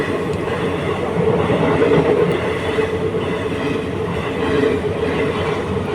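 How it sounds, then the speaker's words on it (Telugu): An express train speeds past on rails late at night, a loud, steady close rumble of wagons and wheels with faint clickety-clack and squeal throughout, no voices. "ఒక ట్రైన్ వచ్చేస్తుంది"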